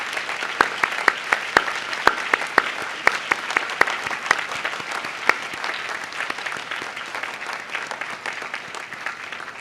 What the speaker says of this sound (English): join me in giving them a round of applause to show our deepest gratitude for their unconditional love and support over these years